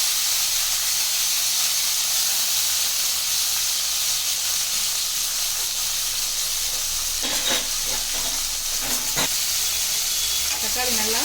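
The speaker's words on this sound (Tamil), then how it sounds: "தக்காளி நல்லா வதங்கட்டும்." Tomatoes sautéing in a pan with fenugreek seeds and curry leaves for South Indian hotel-style sambar give a steady close sizzling hiss, with a few brief clinks and stirring scrapes near the end.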